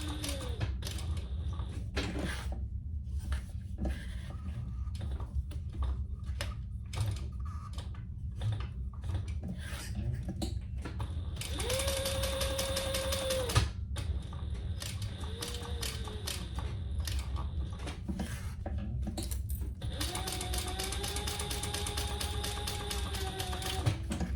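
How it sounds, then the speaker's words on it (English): A sewing machine back stitches a small leather-style mini wallet, with rapid mechanical stitching runs broken by pauses, and a high whining motor tone during the longer runs, heard close and alone. "Back stitch well."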